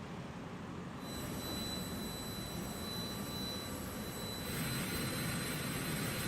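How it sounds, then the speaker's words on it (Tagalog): Jet airliner arriving overnight from Jakarta, Indonesia: a loud, steady roar of jet engines with a high whine, holding constant and swelling slightly near the end, with no voices. "lumapag sa bansa ang eroplanong sinakyan ni dating Mayor Alice Go kaninang 1:10 a.m"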